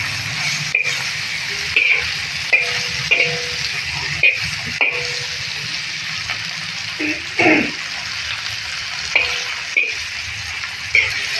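Drumstick pieces frying in oil crackle and hiss steadily up close, broken by repeated spatula scrapes and knocks against the pan as they are turned.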